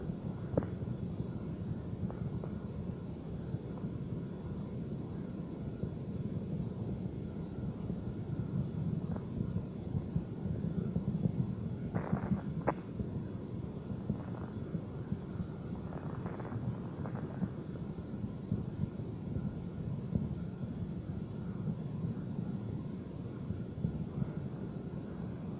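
Space Shuttle Endeavour's twin solid rocket boosters roar through ascent on the STS-88 launch, a steady, distant, low-pitched rumbling drone that holds evenly throughout, with faint wind buffeting and no talk.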